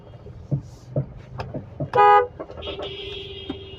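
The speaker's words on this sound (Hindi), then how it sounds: "ये देखिए अभी कितना बिजी ट्रैफिक है" Busy city traffic during office hours heard from inside a car, with repeated short horn toots from nearby vehicles, one longer blast, and a low steady engine and road hum beneath.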